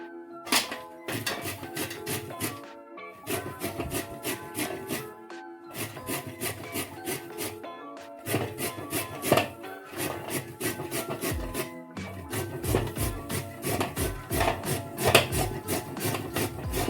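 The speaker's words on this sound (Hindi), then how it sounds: "इसको ऐसे कद्दूकस कर दीजिए।" Carrots being grated on a grater for gajar ka halwa, rapid rhythmic rasping strokes in repeated bursts separated by brief pauses, close and clear with no talking.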